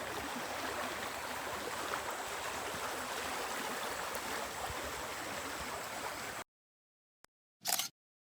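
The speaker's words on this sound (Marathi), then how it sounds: "वाहती नदी आहे." A flowing river stream in the Konkan countryside near Guhagar, Ratnagiri, rushes in a steady, broad wash for about six seconds, then cuts to near silence with a couple of brief bumps.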